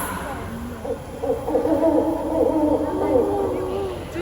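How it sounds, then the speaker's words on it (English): An owl hoots in a series of low, wavering calls, fairly clear and close, with some faint background voices around it. "Do you know what's that bird? Owl, yes you are right"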